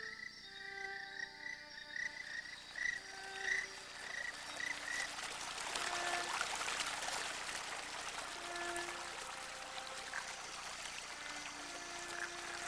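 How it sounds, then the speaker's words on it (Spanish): Toads call at night, males singing to attract females: several steady, repeated trilling croaks overlap at different pitches amid a dense bed of insect chirring, all fairly faint and distant. "Los sapos son muy activos durante la noche. Los machos se comunican con las hembras a través del canto."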